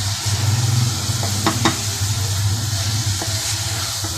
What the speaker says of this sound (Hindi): देखिए दाल जो है वो साबुत है। मैं बहुत ही प्यार से चमचा लगा रही हूँ